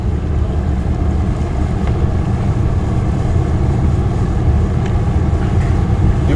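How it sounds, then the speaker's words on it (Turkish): A fishing boat's engine in the Fishing: North Atlantic game runs with a steady, loud, low rumble and a constant wash of wind and water, unchanging throughout with no voices. "Tekneyi çalıştıralım."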